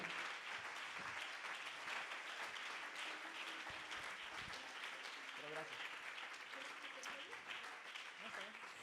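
Congregation applauding during a Spanish-language church service, a fairly faint, sustained patter of clapping with a voice speaking over it and occasional low thumps.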